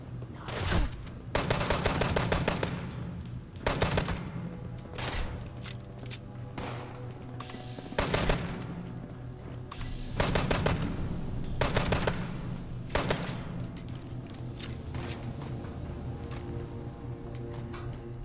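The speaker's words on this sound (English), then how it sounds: "Yeah, another double shotgun." Double-barreled shotgun blasts in the video game Fallout 76: heavy booming shots fired in irregular bursts and separated by short gaps, each followed by rumbling echo over a steady game ambience.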